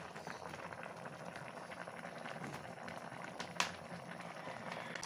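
Catfish adobo with taro leaves and annatto bubbles steadily in a pot, a soft, even boil broken by one brief sharp click.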